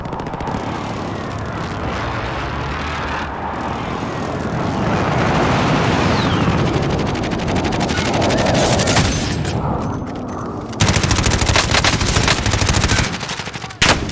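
Video game gunfire with sustained automatic bursts and scattered shots over a rumbling battlefield background, growing denser and louder toward the end with heavy rapid volleys.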